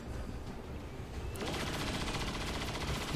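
Gunfire from a Long War 2 tactical battle, a dense, sustained burst of shots that thickens partway through and carries on steadily at moderate loudness with no talk over it.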